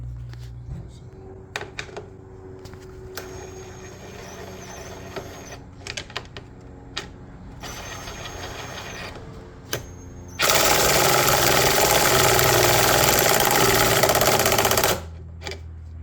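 Quiet clicks and brief whirs lead up to a loud power drill that runs continuously for several seconds before stopping, while fitting an LED headlight on a 2007 Mack Granite dump truck.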